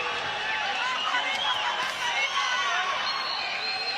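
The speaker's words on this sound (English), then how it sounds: "Very pro-Mexican crowd here in Fresno," A large pro-Mexican crowd at a boxing match in Fresno, California cheers and roars steadily, with a dense, continuous wall of voices and a commentator talking over it.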